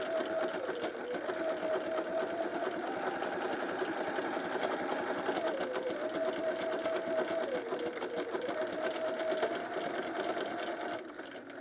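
A sewing machine stitches a buttonhole with a fast, steady mechanical whir and rapid needle chatter, running continuously up close with slight shifts in pitch as the stitch pattern changes, and no talking over it.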